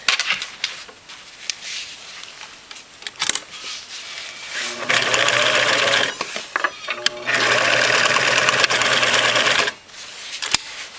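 A sewing machine stitches elastic into a fabric casing, running in two sustained bursts of rapid close mechanical clatter separated by a short pause, with a few light handling clicks around them.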